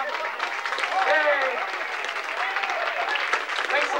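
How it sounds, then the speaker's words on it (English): Guests applaud a couple at their 50th wedding anniversary party: a loud, dense round of clapping from a small crowd, steady for several seconds, with voices calling and chattering over it. "Let's all give them a round of applause, huh?"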